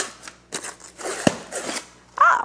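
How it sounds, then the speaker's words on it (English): A can of crescent roll dough being opened, with close rustling and peeling of the wrapper, a sharp pop of the can seam at about the midpoint, then more crinkling and a brief squeak at the end. "So we're gonna open 2 cans of crescent rolls."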